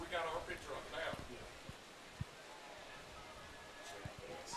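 Light rain coming down on a baseball field during a high school game, a faint steady hiss with scattered soft ticks of drops, picked up at a distance while people talk over it.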